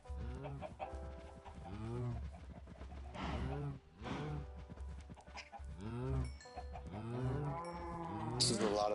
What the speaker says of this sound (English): This is a lot of cows.